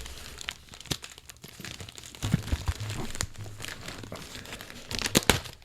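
A gift-wrapped book is drawn out of a bag, giving steady paper crinkling and rustling with a few sharper crunches and tearing-like bursts near the end, close and moderately loud.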